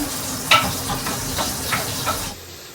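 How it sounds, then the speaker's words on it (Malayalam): Fish frying in a pan on a medium flame during home lunch cooking, a loud close sizzle with a few stirring clicks that cuts off near the end. "ഫിഷ് ഇപ്പം ഫ്രൈ ആകുന്നൊരു മീഡിയം ഫ്ലെയിമിലാക്കാം"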